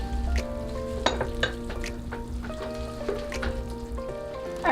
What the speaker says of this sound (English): we're just gonna mix everything in